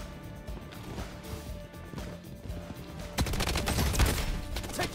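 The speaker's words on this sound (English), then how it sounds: "I'm getting shot from behind here" Gunfire rattles in the Bloodstrike video game, first scattered shots, then a dense rapid burst of loud fusillade toward the end, with no speech.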